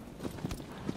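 Horse hooves clop in a quick galloping rhythm in the Shadow of the Colossus video game, a few soft thuds over a faint, noisy background.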